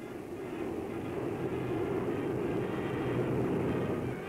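Bomber aircraft returning from a 1944 wartime raid give off a steady, fairly distant engine drone that holds evenly throughout, with no talking.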